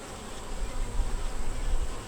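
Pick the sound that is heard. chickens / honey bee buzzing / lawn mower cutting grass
honey bee buzzing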